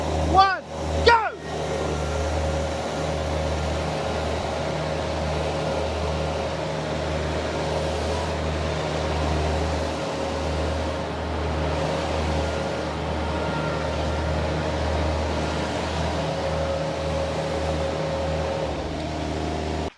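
VMENG and Derette outboard motors run flat out at full RPM for a speed test, a loud, steady mechanical drone with rushing wind and water, after a few brief knocks at the start.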